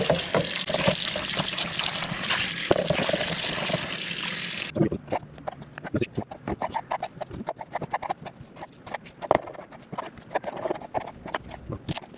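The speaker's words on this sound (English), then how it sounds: "We're going to wash the onions, the vegetables." Tap water rushing loudly over onions and vegetables being washed, a dense gush for about five seconds that then stops, leaving scattered handling knocks and splashes close by.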